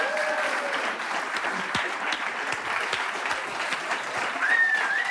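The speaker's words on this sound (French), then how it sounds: "je vous demande un tonnerre d'applaudissements pour Kader Nemer." Studio audience on a French talk show bursts into sustained applause to welcome actor Kader Nemer, a dense steady wash of clapping lasting throughout with no break.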